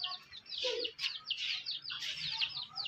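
Caged budgerigars chirp and warble continuously in bright overlapping bursts, close and lively, with a faint low voice briefly underneath.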